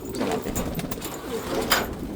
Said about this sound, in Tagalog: Ito na yung mga ibon natin.